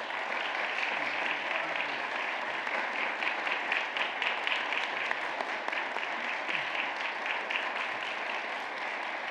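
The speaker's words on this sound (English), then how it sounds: "Let's give them a round of applause." A church congregation applauds during a deacon ordination service, with sustained, dense clapping from many hands that stays steady and fairly loud throughout, without speech over it.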